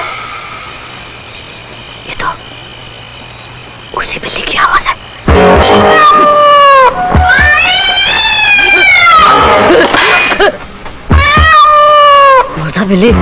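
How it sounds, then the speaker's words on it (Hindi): Ghost cat meows in a Hindi horror film, a run of drawn-out, wavering wails that rise and fall loudly, separated by brief gaps, with rustling noise underneath and eerie background sound. "ये तो उसी बिल्ली की आवाज है।"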